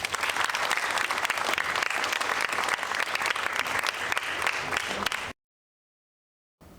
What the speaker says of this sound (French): Merci à tous et applaudissons-nous